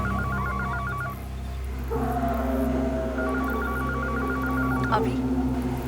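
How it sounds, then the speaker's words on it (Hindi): A phone rings in a horror TV show scene, short repeated electronic trills, two bursts separated by a pause, beneath a steady low hum and faint background talk. "फोन बज रहा है।"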